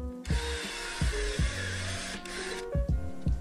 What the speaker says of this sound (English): Once your guides are drawn, drill your holes.